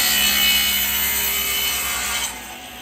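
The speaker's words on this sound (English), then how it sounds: "We're going to cut one side of the outer limit of the tenon in sequence on each piece" Handsaw cutting one side of a tenon in a wooden coffee-table workpiece held in a jig: a steady, close rasping sawing sound running continuously, easing off slightly near the end.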